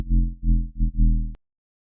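A dry Serum synth patch for techy drum and bass with no effects, four short low, buzzy harmonic notes in a quick stuttering rhythm that end abruptly, loud and close with nothing else heard.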